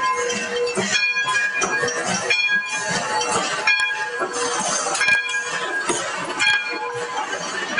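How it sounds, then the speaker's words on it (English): A train arriving at the Santa Paula depot, a continuous rumbling roll with ringing metallic tones and clinks repeating, loud and close for the whole stretch. "I see it's almost time for the train to get back"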